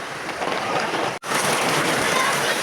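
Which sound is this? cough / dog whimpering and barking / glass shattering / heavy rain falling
heavy rain falling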